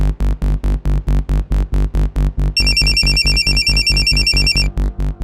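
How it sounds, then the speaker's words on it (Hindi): A phone ringtone pulses in a steady, rapid repeating pattern, loud and close, with a brighter melodic tone layered in midway through. "फोन लगाइए अपने बेटे को"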